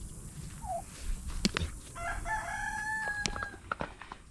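A rooster crows near a pair of farm chickens, a drawn-out cock-a-doodle-doo mid-clip, with scattered clucks, sharp clicks and a faint distant bird call around it.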